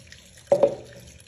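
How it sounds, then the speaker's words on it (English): White vinegar pours into a plastic bag in a short liquid splash, two quick gurgling bursts followed by a fading trickle, close by and with no voices. "In the bag, pour vinegar."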